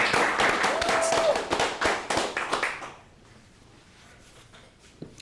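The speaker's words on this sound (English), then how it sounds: "Guys, can we give him a round of applause, please?" A livestream audience claps to welcome a guest, a lively round of applause for about three seconds that thins into scattered claps and then near silence.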